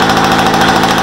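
A Motobécane 103 moped engine runs steadily while warming up, a loud, close, buzzing two-stroke drone with even rapid pulsing.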